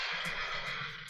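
Horses neigh and whinny in a barn, a steady, faint, continuous whinnying with soft hoof clops underneath and no talk.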